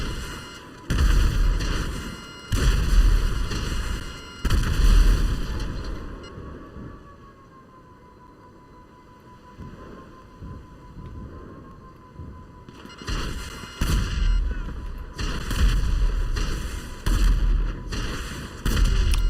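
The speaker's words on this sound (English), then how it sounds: "Worst missiles ever." Missiles explode in GTA 5 Online, a series of loud booming blasts in bursts at the start and again near the end, separated by a quieter stretch with a steady electronic tone and game ambience.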